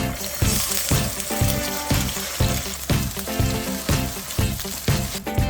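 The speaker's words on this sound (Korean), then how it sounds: "고기 볶던 웍에 식용유 두르고 계란 한 개를 풀어 스크램블 해주세요" An egg is scrambled in cooking oil in a wok just used for frying minced meat for fried rice, with a loud, steady sizzle and regular scraping stir strokes about every half second.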